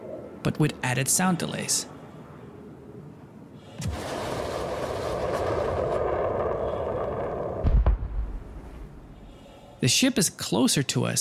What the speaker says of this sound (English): Here's that missile first being fired,